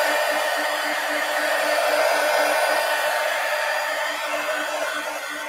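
A hair dryer blows steadily and close up, drying matte medium on a mixed media collage pumpkin, giving an even, continuous whoosh with a faint whine throughout.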